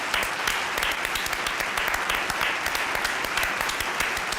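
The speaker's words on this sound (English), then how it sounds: "A round of applause, please, for Jules Koundé." Steady applause from a crowd, heard at moderate level, greets a substituted footballer leaving the pitch during a Valencia versus FC Barcelona Copa del Rey match, with many hands clapping continuously.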